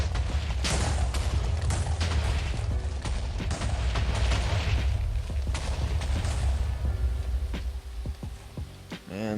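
Airstrike TNT going off in Minecraft's Lucky TNT mod, a rapid barrage of booming blasts and crackling detonations rolling over one another, loud at first and thinning out toward the end.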